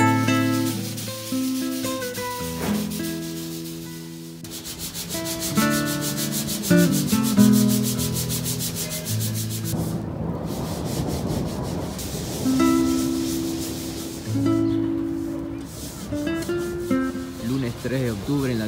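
Steady abrasive sanding of a Citroën 3CV car body, a continuous rough scraping that surges and pauses in strokes, close and fairly loud, with brief tonal hums beneath.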